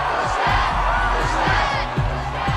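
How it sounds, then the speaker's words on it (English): A concert crowd in the film Queen of the Damned chants in a strange, rhythmic way, with loud massed voices rising and falling and a steady pulse beneath, filling the space continuously. "the crowd indulges in the weirdest chanting"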